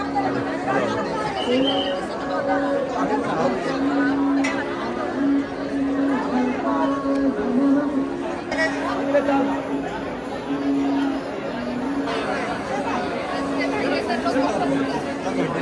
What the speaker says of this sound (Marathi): खूप गर्दी असल्यामुळे आपण पासची व्यवस्था केलेली आहे.